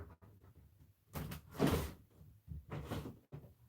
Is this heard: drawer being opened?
yes